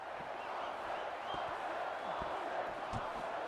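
Stadium crowd noise in Rugby 25 gives a steady broad roar of a large crowd with scattered thuds and faint cheering, continuous and moderately loud throughout.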